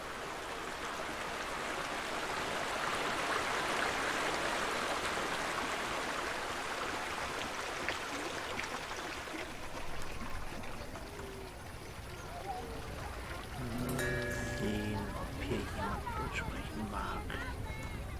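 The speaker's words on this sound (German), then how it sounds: "Noch ein Wasserfall." A waterfall in the video game Eastshade gives a broad, steady rushing roar that fades in the second half, as a calm musical tone comes in near the end.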